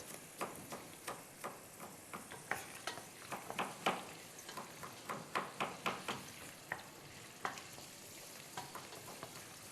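Meat and onions sizzle steadily in a hot pot while a spoon scrapes and clicks against it in an irregular stirring rhythm, close up with no talking.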